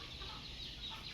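Chickens cluck softly around the feeding area of a farm's chicken yard, a low continuous murmur of fowl sounds at a moderate distance with no voices.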